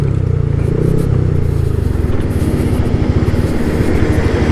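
A motorcycle rumbles loud and close over a rough, bumpy road, its low engine drone shaking into a rapid juddering rattle partway through, with no voices over it.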